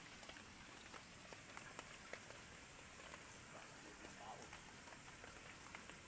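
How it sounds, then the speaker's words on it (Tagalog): Heavy rain falls all night, a steady soft hiss of drops on surfaces with scattered sharper taps, faint and continuous with no voices. "Grabe, magdamag ulan."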